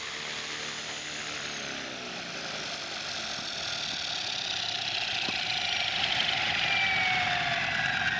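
A Walkera V400D02 radio-controlled helicopter with a brushless direct-drive tail and fiberglass canopy comes in to land, its rotor and motor producing a steady high whine with faint rhythmic beating throughout.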